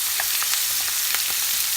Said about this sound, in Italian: Quando sentite lo sfrigolio